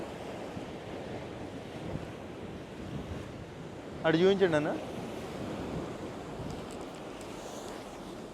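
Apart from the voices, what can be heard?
ocean waves crashing on a rocky shore, wind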